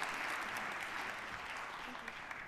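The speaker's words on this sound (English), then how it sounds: "Can we give them a very warm round of applause?" A warm round of applause for conference panelists at a plenary session fills the hall, steady and dense from start to end, with a voice faintly heard underneath.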